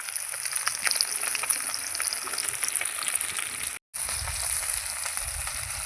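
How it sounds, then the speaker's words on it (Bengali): Catla fish fries in a pan with a steady, close crackling sizzle across the clip, broken by one brief silent gap before it resumes. "এদিকে মাছ ভাজা হচ্ছে"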